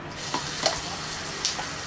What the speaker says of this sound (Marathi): खजूर आपण तळून घेतोय